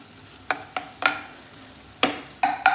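Spoon scraping through masala frying in a pan with pepper powder, several sharp stirring strokes over a faint sizzle, close by.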